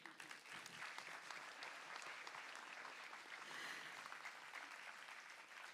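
A large audience at a Y20 event applauds steadily throughout, a dense, even wash of many hands clapping at a distance, with no break.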